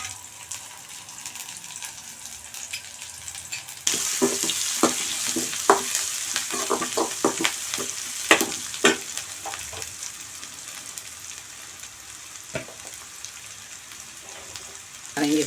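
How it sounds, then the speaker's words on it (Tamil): Onions sautéing golden in a pan for a cassava dosa snack: a continuous sizzle that grows louder partway through, with scraping stirs and clinks of a utensil against the pan. "வெங்காயம் வதங்கிருச்சு, பொன்னிறமாக வதங்கிருச்சு."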